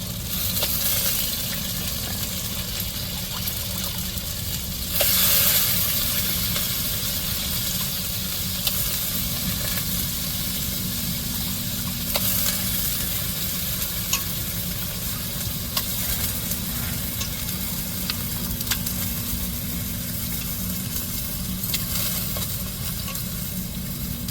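Intestines sizzle steadily in a hot pan, with a constant crackling fry and occasional stirring and scraping, close and continuous with no talk.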